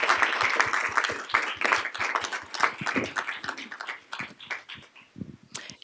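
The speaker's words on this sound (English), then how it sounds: "how about a round of applause for these amazing ladies?" An audience applauds at a board of education meeting, a dense patter of many hands clapping steadily for several seconds and thinning slightly toward the end.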